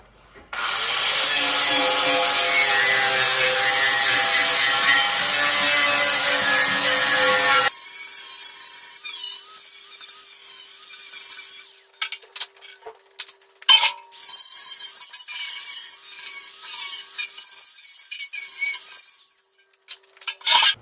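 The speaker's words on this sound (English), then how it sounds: "I'm going to go ahead now and clean this up with a flap disc, and then hopefully we can move right into welding." Flap disc grinding a welded steel radiator bolster part on a Case 310G, a loud continuous abrasive rasp that stops abruptly partway through, followed by quieter intermittent scraping and handling noises.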